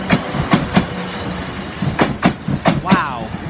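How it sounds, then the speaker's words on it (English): Train passing through Guildford station, led by a locomotive, with rhythmic clattering wheel clicks over the rails and a rushing rumble, close by, with a voice speaking briefly among the noise. "It's amazing how much dirt is kicked off these trains."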